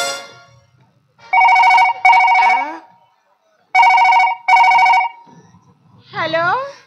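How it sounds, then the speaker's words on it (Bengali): A phone ringtone sounds during a Bengali Gajon folk stage performance: two loud pairs of electronic ringing bursts with short gaps, then a voice starts speaking. "টুম্পা কোথায় আছে ফোনটা করা যাক"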